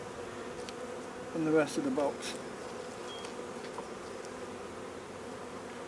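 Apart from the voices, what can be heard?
honeybees buzzing in an open hive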